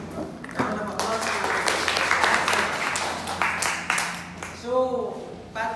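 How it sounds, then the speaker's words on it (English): A classroom group claps during a teaching demonstration, a short ragged burst of applause that rises and fades, with a voice speaking at the end. "Okay, let's give a round of applause."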